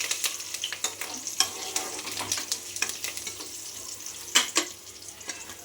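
Turmeric goes into a sizzling tempering for village-style tamarind rice, the hot oil crackling in a steady bed of fine sizzle with scattered sharper pops and a couple of louder bursts near the end, close up and with no talk.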